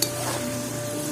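Spicy sliced potatoes fry on a wood-fired clay stove, giving a dense, even sizzle and crackle heard up close without any talk.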